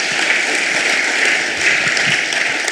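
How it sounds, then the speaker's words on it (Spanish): A congregation at a church service claps for the Lord, a dense, continuous wash of applause at a moderate distance that holds steady throughout. "Dale un aplauso al Señor en esta hora."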